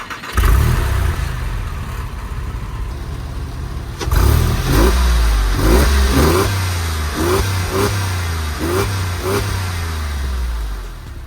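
A 2002 Porsche 911 with the M96 3.6-litre flat-six cranks and fires at the start. It then settles into a loud, close idle and takes a series of six or seven sharp throttle blips that rise and fall in quick succession.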